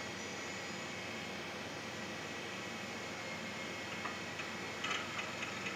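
DEC R400X DSSI storage expander with several disks spinning up, a steady broadband whir and hum with faint high ticking near the end, heard alone.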